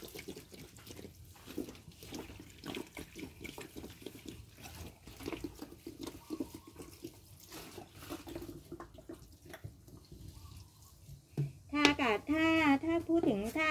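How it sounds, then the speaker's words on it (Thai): Fermented plant liquid poured over four freshly potted plants in clay-rich soil, a steady trickle and splash running throughout, with someone speaking Thai over it and a bright pouring burst near the end. "รดด้วยน้ำหมักนะรดด้วยน้ำหมัก"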